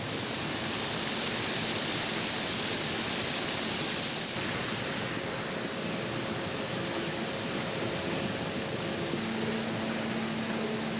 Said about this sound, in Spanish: Todas las partículas de tierra, incluso las que están entre las escamas, se eliminan por medio de potentes chorros de agua